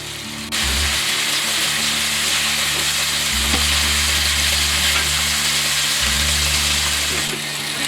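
Chicken pieces browning in a pan for an Indian curry, a dense, loud and steady sizzle up close with a low hum swelling in and out underneath, no one speaking.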